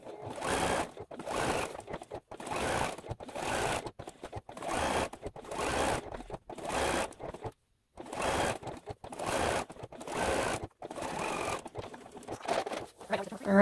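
Home sewing machine running a zigzag stitch around appliqué shapes on quilt blocks, in a steady series of close whirring bursts of about a second each, separated by short pauses, with no talk.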